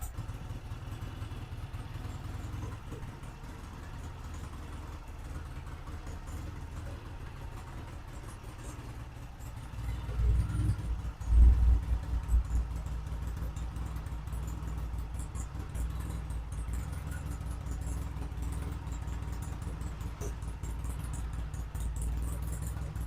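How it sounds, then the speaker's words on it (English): A Norton motorcycle engine idling, a steady low rumble that swells briefly midway as the idle is turned up, then settles into a slightly stronger even idle. "I'm going to turn the idle up just a little bit."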